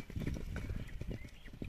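Hooves of a horse clip-clopping on the ground in a steady, moderately close rhythm, with a horse being ridden and shown off outdoors.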